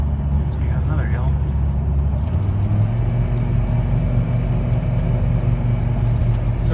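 A Dodge Ram V10 truck engine pulls hard while towing a camper up a steep hill, a steady deep drone held at constant load throughout, with people talking over it inside the cab.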